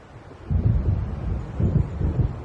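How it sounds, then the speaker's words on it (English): Low rumbling thunder from an approaching storm in the Alan Wake video game, rolling in several deep swells after a brief quiet start, heavy and sustained with a windy, blustery edge. "It seems there's a storm coming."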